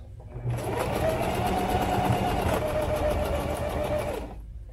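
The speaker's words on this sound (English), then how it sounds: "I'm gonna go around this 3 times, and I'm gonna do 3 2-inch box stitches." Sewing machine running steadily for about four seconds, stitching box stitches through sling saddle webbing, a continuous close whirring hum that starts and stops cleanly.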